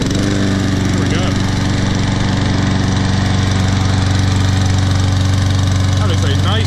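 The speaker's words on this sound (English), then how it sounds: "That is a nice sounding, powerful engine." A Toro TXP 159cc OHV push mower engine runs steadily and loud up close, a constant droning hum with no change in pace throughout.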